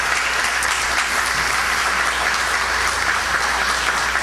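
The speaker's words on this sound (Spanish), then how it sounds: "Fuerte las palmas." Loud, steady applause from a crowd at an anniversary ceremony for the Miraflores district, dense clapping sustained evenly throughout with no speech over it.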